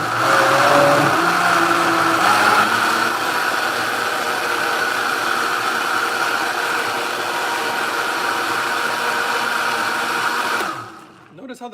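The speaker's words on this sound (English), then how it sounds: "I don't like it too chunky, so I'm going to blend it a little more." Vitamix blender fitted with a vacuum kit runs steadily at high speed with a whirring motor roar, loud and close, then cuts off near the end.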